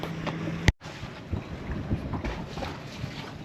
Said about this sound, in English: It's a bit rocky here today because we've got an easterly blowing on us